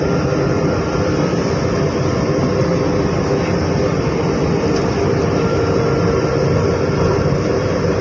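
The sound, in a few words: train at station platform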